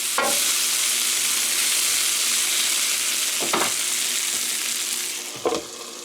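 Potatoes frying in a pan, a loud continuous hissing sizzle broken by three scraping stirs, close up, easing slightly near the end.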